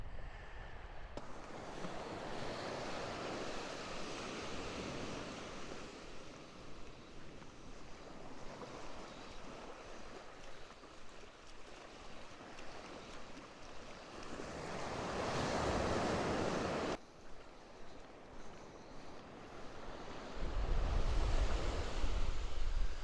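Waves wash continuously onto a deserted beach on the west coast of South Uist, Scotland, a broad, steady roar with a louder surge building and breaking near the middle, and wind buffeting the microphone.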